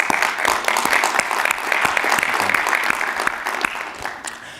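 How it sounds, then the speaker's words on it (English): A conference audience at a summit breaks into steady, dense applause, many hands clapping together in a continuous loud wash that holds for several seconds and then begins to thin at the end. "So I'd like to give them a round of applause as well."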